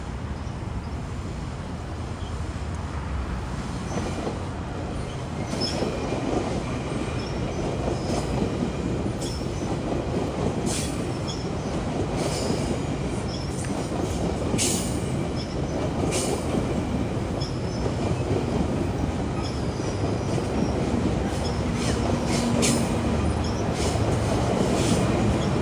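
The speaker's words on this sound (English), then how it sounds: "Now this is the Kitchener train." A Kitchener commuter train, shoved by an MP54 AC locomotive, passes near Toronto with a loud sustained roar, rhythmic wheel clacking and intermittent high metallic squeals that grow louder toward the end.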